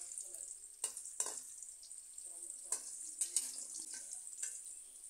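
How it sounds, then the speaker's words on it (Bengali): Pumpkin pieces fry quietly in a pan under a soft, constant sizzle, broken by several sharp scrapes and clatters of a spatula stirring them at uneven intervals. "হালকা লাল লাল করে আমি ভেজে নিচ্ছি"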